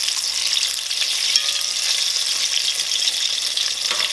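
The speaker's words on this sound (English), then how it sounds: "We're gonna fry them on this side for a couple of minutes." Apple fritters fry in hot oil with a loud, steady crackling sizzle that holds evenly throughout, close up, with only faint irregular pops.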